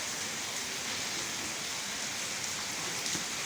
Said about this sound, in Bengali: আজ তিন দিন যাবৎ বৃষ্টি হচ্ছে